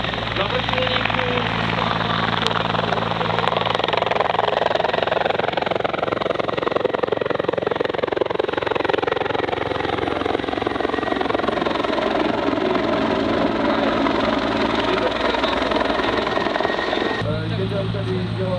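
Military helicopter at a NATO Days air show in Ostrava, a loud continuous rotor and turbine roar running throughout with steady blade chop, under a faint voice, briefly dipping near the end.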